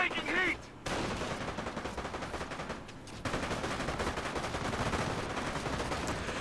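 Battle in Company of Heroes with Rangers advancing with Thompsons: bursts of machine-gun and rifle fire crackle nearly continuously, punctuated by heavier booming impacts, with a short voice at the very start.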